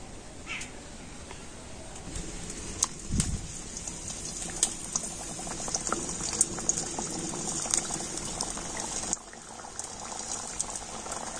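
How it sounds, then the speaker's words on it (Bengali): Wheat flour snacks deep frying in medium-hot oil, giving a steady bubbling sizzle with crackling pops that runs throughout, briefly dipping near the end before resuming. "তেল গরম হয়ে গিয়েছে, তবে তেল কিন্তু একেবারে খুব গরম করে নেব না, একটু মিডিয়াম গরম করে নিয়ে তারপরে নাস্তাগুলো আমি ভেজে নেব"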